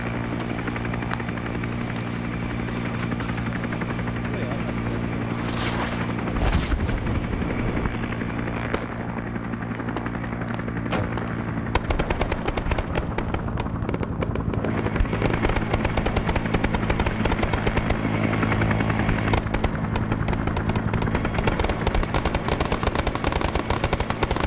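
A helicopter in a Vietnam War video game hovers with a steady, dense rotor drone, and rapid gunfire bursts crackle over it. The din stays loud and continuous throughout.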